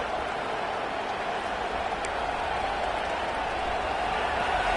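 Stadium crowd at a football game in a sports video game, a dense steady roar of many voices with a faint clap or two, continuous and fairly quiet throughout.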